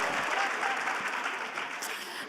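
An audience at a women's human settlements indaba in the Northern Cape claps in a steady, dense wash of applause that fades slightly toward the end.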